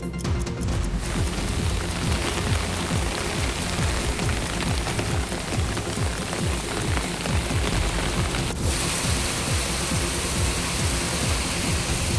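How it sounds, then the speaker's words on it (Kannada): Heavy rain pours near the foothills of the Male Mahadeshwara hills in Chamarajanagar district, a loud, dense and unbroken patter of drops on surfaces that continues without let-up and with no voices. "ಚಾಮರಾಜನಗರ ಜಿಲ್ಲೆಯ ಮಲೆಮಹದೇಶ್ವರ ಬೆಟ್ಟದ ತಪ್ಪಲಿನಲ್ಲಿ ಭರ್ಜರಿ ಮಳೆಯಾಗಿದೆ"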